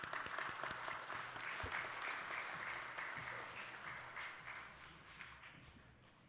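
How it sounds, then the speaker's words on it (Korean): Sustained applause fills a church as a men's vocal ensemble comes forward to sing an offering hymn, a dense steady clapping from a congregation that holds for several seconds and slowly thins toward the end. "큰 사랑과 격려의 박수 부탁드리도록 하겠습니다."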